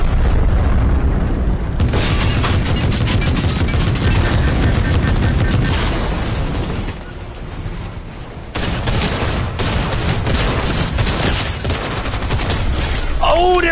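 Tank cannon blasts and gunfire in Fortnite: a loud, sustained barrage of booming shots and rapid fire that dips briefly midway before surging back, dense and close throughout.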